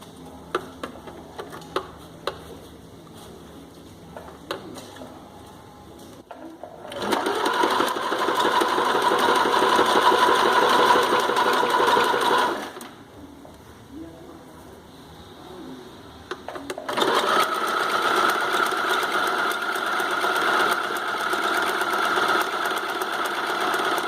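A home sewing machine stitches the edge of a bikini with a full cup in two loud, steady runs of rapid mechanical hum, separated by a quiet pause and preceded by small handling clicks.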